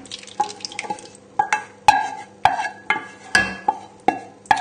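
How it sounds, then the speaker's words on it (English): Sauce poured onto pasta in a chicken and mushroom pasta bake gives a series of wet, regular glugs and splats, about one every half second, close and distinct with no talking. "we're just going to pour the sauce in with the pasta"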